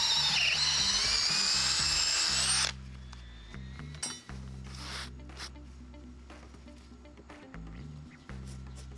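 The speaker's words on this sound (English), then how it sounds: "we'll drill a few holes in this timber, pound some rebar down through" Power drill boring holes into a landscape timber for a terraced garden bed on a slope, a loud steady whine that first runs alone, then gives way to lower, steadier drilling with brief pauses.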